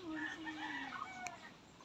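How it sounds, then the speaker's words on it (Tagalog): Mother hens on a farm cluck and call steadily at close range, with a drawn-out crowing-like tone in the mix. No talk is heard. "Ayan ang aming mga inahin."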